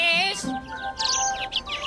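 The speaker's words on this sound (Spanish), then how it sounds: "¿no te parecen adorables las aves?" Cartoon birds chirp in a quick, bright run of tweets near the start, with a few more scattered twitters after, in a children's animated Bible series.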